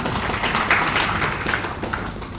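Congregation applause at a church worship service in Medan, a dense, steady wash of many hands clapping that fills the hall without pause.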